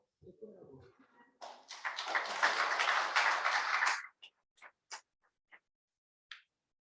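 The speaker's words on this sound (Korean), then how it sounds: "우리 축하의 박수 해주시면서" Congratulatory applause from a church mission department's annual general assembly crowd, a dense burst of clapping lasting a few seconds before trailing off into scattered last claps; brief talk precedes it.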